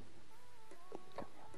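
A cat in a video game gives a few faint, short meows spaced over a second or so, quiet beneath a steady background hum.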